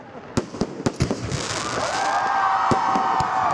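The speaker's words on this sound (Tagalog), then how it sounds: "isang magarbong fireworks display ang inalay ng pamantasan para sa mga magiging bagong abogado" A university fireworks display honouring new lawyers at UST sends out a quick run of sharp, loud bangs, then gives way to a sustained crackling roar with faint crowd noise underneath.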